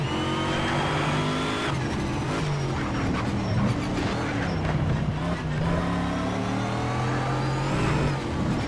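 A race car engine revs and shifts through gears in Need for Speed: SHIFT on an exotic mixed track, a steady close howl with rising and falling pitch sweeps and no talk over it.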